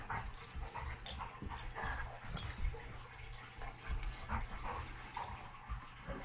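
A dog whimpers and yips softly near a pine slab coffee table or bench indoors, a few short whines and snuffles scattered through a low, busy background.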